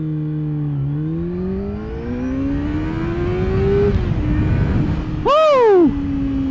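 A 600cc sportbike engine idles then climbs steadily in pitch as it is revved toward 6,000 RPM for a launch, followed by a sharp rising-and-falling whine as the clutch engages, loud and close.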